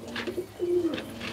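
Pigeons in a loft of highflying Giribaj and Madrasi breeds, giving soft low coos close by over a faint background hum.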